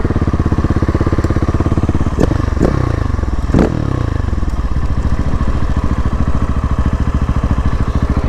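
A KTM SMC R motorcycle engine runs with a steady, rapid near thump, briefly revving up a few times, with some clatter over the loud idle.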